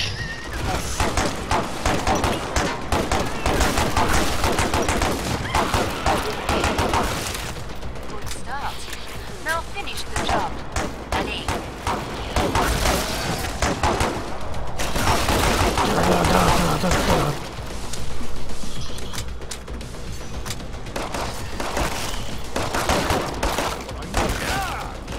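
Hip-fired guns rattle in sustained, loud bursts in Killing Floor 2, with dense automatic fire, crashes and thuds recurring through the stretch, and voices talking over the shooting.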